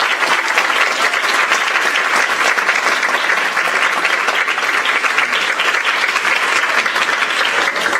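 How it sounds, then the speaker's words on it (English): A middle school fine arts band concert audience applauds the student musicians with steady, full clapping that holds at an even level for about eight seconds, dense and continuous with no pauses. "I think we should give all these wonderful musicians a nice round of applause"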